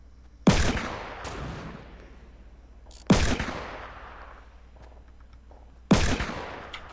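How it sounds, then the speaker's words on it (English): Three loud, sharp sniper rifle shots in a video game, spaced a few seconds apart, each with a long, booming echo that fades before the next. "They're sniping east, outside the jail."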